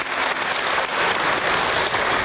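A crowd claps steadily and loudly for adult education graduates, a dense, even wash of applause with no break.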